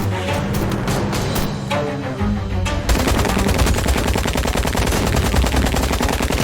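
Sustained machine gun fire in the adventure game Syberia The World Before, rapid loud bursts that turn into a relentless continuous rattle after a short gap, with no talking.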